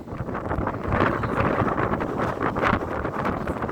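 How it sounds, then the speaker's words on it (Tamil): Strong wind on a Meesapuli Malai mountain trek roars and buffets the microphone in continuous loud gusts, with no other sound coming through. "காற்று பாருங்க எப்படி அடிக்க, நிற்கவே முடியல என்னால், அப்படி காற்று அடிச்சது."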